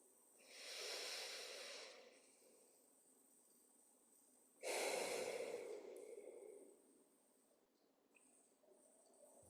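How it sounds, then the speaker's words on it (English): Two slow, deep breaths taken during meditation, each a long airy inhale-exhale rush heard close and soft, separated by a quiet pause. "Let's just take a few deep breaths together."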